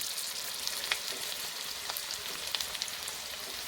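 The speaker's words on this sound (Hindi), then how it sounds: "ये चले गए ऑयल के अंदर प्याज हमारे" Chopped onions fry in hot oil for a fish salan curry, giving a steady, dense sizzle with faint crackles and small pops throughout, close and continuous with no talking.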